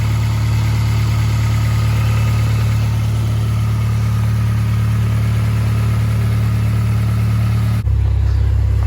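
A car engine idling while warming up after a coolant leak repair, a loud steady low hum close by that drops to a deeper tone near the end.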